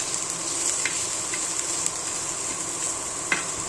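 Masala with ginger being dry-roasted in a pan for a prawn curry, giving a steady soft sizzle with faint scraping stirs and a couple of sharp clinks of a spoon against the pan, no voices.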